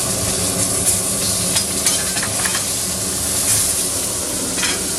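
A beef and pheasant burger patty fries in a pan with a loud, continuous sizzle and crackle that stays steady throughout, with no voices.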